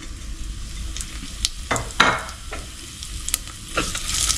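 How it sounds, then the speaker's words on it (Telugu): Mustard seeds, cumin, fenugreek seeds and urad dal sizzle in hot oil for a methi dal, a steady crackling fry with a few sharper pops and stirring scrapes close by. "సో ఈ ఆవాలు, జీలకర్ర, మెంతులు, మినప్పప్పు వేసేసుకోవాలి"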